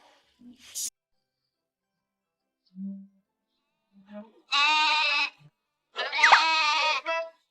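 A cartoon goat gives two drawn-out bleats, the second wavering and longer, after a few soft scattered sounds, clear and close.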